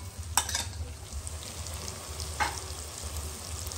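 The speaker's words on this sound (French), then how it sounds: "Je mélange bien le tout." Sausage curry with cabbage and spices steadily sizzling and frying in a pot while being stirred, with a couple of sharp utensil clinks against the pot.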